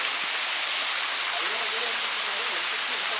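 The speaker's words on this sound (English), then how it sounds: "It is 170 feet high waterfalls with pure water free flowing." Raikal waterfall, 170 feet high, pours down in a constant loud, hissing rush of free-flowing water, steady and close throughout with no voices.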